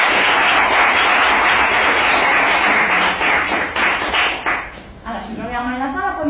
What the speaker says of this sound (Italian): Farei un applauso di incoraggiamento.